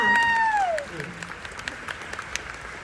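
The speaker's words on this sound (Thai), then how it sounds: "โหวันนี้คนเชียร์เยอะมาก" After a bright gliding tone fades, an audience at a stage show for young Golden Song singers claps and cheers in a soft, scattered patter that continues faintly in the background.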